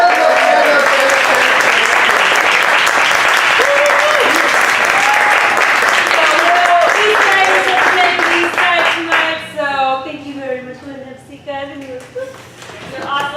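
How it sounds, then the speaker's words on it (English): An audience of a community event applauds student performers, sustained loud clapping that thins out toward the end while a voice talks over it. "So can we give them a round of applause?"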